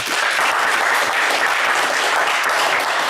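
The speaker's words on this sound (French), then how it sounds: "Allez, Daniel, on vous applaudit très," A game show studio audience claps for contestant Daniel, a dense and even burst of applause that stays loud and steady for a few seconds, with no voices over it.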